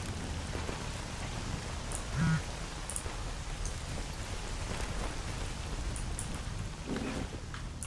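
Steady rain pours down in the video game Escape From Pripyat, an even, continuous hiss with a few faint scattered sounds over it and no talk.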